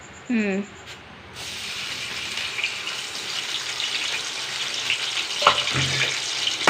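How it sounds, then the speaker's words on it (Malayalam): Green chillies and a small piece of ginger drop into hot oil in a pan, setting off a steady close sizzle that grows and holds after a brief tonal chirp and a short pause at the start. "ഇതിലേക്ക് രണ്ട് പച്ചമുളക് ഒരു ചെറിയ കഷ്ണം ഇഞ്ചി ഇട്ട് കൊടുക്കട്ടെ"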